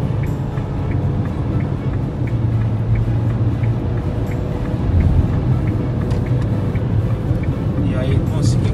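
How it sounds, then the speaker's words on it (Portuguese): A Renault Duster engine at full throttle while overtaking a truck on the road, a steady low droning roar with road and wind noise, and someone talking over it throughout. "Agora eu precisei colar o pé no fundo para fazer a Duster desenvolver"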